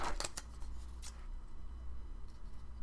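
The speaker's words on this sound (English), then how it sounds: "these giant scissors" Giant scissors snip through paper during a spring bunny folio craft, a few quick crisp cuts near the start and another around one second, close and fairly quiet.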